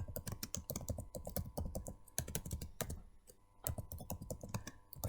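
Keys clatter on a computer keyboard as an assignment title is typed, a quick, irregular burst of close clicks and taps running steadily with a brief pause midway.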